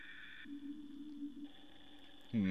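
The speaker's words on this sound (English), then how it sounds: "We seem to be patched to the inside of someone's diving helmet" Muffled underwater ambience from inside a diving helmet, heard over a phone in the game Omori: steady low droning hum with high tonal bands, a brief shift midway and a louder burst at the very end.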